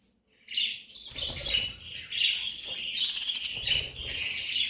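Several birds chirp and tweet close by in a lively, overlapping chorus, with bright calls sounding continuously and a short run of quick repeated notes near the middle.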